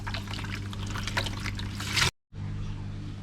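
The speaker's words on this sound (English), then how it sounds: "I'll give it a quick rinse off with the chlorinated water." Chlorinated tap water runs and splashes steadily over a koi pond filter being rinsed, cuts off briefly, then resumes flowing.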